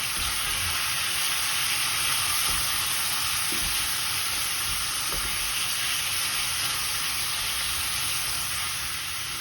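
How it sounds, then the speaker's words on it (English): Minced meat sizzles steadily in a pan for spaghetti with minced meat, a continuous loud frying hiss with occasional scrapes of stirring throughout, no voices. "we need to keep stirring our mince until it gets a nice brown color and starts getting nicely cooked"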